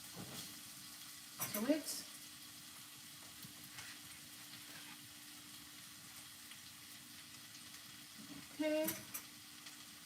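Onions and peppers frying in hot oil in a Jamaican breadfruit and callaloo breakfast pan, a quiet steady sizzle throughout, with a brief short remark from a voice and a couple of louder stirring clatters.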